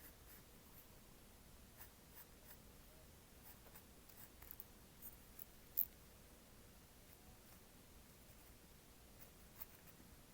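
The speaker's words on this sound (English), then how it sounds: "So now that we have redrawn our pencil line for the top of that scarf" Pencil drawing a line across a carved wooden snowman, a faint soft scratching with light scattered ticks and one sharper click, quiet and close.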